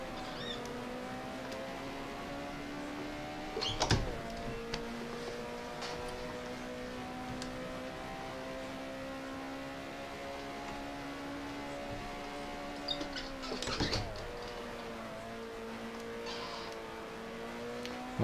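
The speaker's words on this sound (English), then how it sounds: "a very slow moving Peter de Klerk, who seems to be stuck in gear by the sound of his engine" A 1970 Formula One race car in the F1 Challenge racing game drones at a nearly constant pitch, as if stuck in gear, with two brief sharp clicks interrupting the steady engine note.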